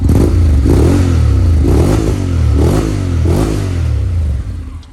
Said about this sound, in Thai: ผมชอบเสียงท่อมากเลย ท่อคาปิกตัวนี้นี่ลงตัวกับเครื่องยนต์ Honda 750 เนี่ย